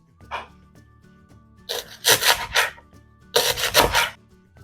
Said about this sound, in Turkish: Öncelikle pırasaları ince ince kıyıyorum.